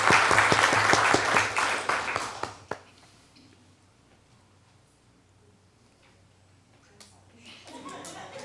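A room at a city council meeting breaks into loud, dense clapping for nearly three seconds before it quickly dies away to near quiet, followed by faint voices and a few small noises.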